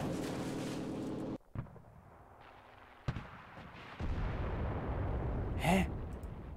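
Bomb explosion in the video game Enlisted during Stuka plane gameplay: one deep, heavy blast with a long rumbling tail, then a sharper crack and a swelling roar of further noise, loud and close.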